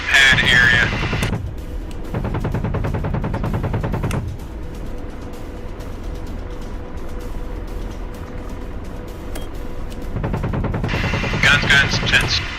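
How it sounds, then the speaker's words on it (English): Helicopter gun fired from the pilot seat in a video game, heard as loud sustained bursts of rapid automatic fire at the start and again at the end, with a steady rotor-like drone between them. "we're shooting the gun from the pilot seat now"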